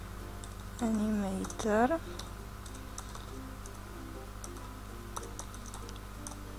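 Quiet keyboard typing ticks away in scattered bursts as code is entered in Unity 5, with someone talking briefly over the clicks.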